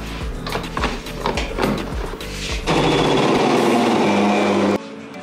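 Mixer grinder blending a lemon pepper chicken paste, a loud continuous motor whir that starts after some clattering and stops abruptly near the end.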